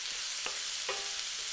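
Onions sizzle steadily in a frying pan while a utensil scrapes through them twice, with soft distinct stirring strokes over the constant hiss and no talk.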